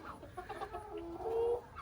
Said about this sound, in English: Beautiful hens